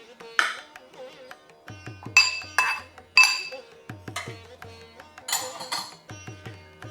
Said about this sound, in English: Now I am adding my cooked rice to this tempering.